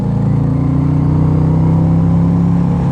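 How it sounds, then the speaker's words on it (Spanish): A Yamaha XV 1900 Stratoliner motorcycle engine revs loud and close, a steady throaty drone climbing slightly in pitch, with no voices over it. "ya se dieron más o menos cuenta de qué tan rápido puede llegar esta motocicleta a, digamos, al máximo de sus revoluciones"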